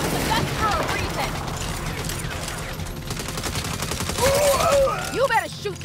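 A turret fires rapid, continuous bursts in the 2022 video game Saints Row, under loud shouted voices and mechanical clatter.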